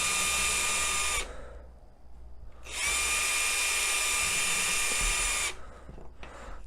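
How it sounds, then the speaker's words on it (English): A power drill pre-drills a small piece of wood in two high-pitched whining bursts, separated by a short pause, with a faint brief whir at the end. "I'll pre-drill"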